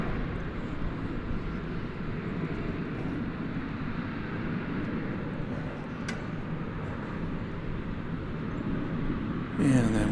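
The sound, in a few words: American Airlines flight 1744 to Phoenix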